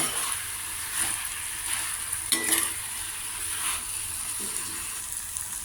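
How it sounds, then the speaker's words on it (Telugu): Cucumber, tomato and onion pieces for a Telugu-style cucumber curry cooking in a pan, with a steady soft sizzle and occasional faint stirring scrapes throughout, close and alone with no talk. "దోసకాయ ముక్కలు టమాటా ఉల్లిపాయ అన్నీ మిక్స్ చేసుకొని మూత పెట్టుకుని కొద్దిగా లో ఫ్లేమ్లో మనం మగ్గించుకోవాలి"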